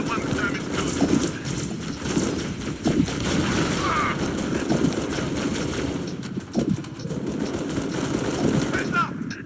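Rapid automatic gunfire and explosions in a Halo Reach campaign battle, dense and continuous bursts throughout with shouted in-game voices layered over the combat.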